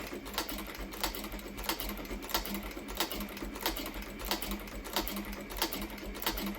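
A sewing machine stitches a leather headstall cheek piece with a steady rhythmic thumping of the needle punching through thick leather, evenly paced and close, without talk.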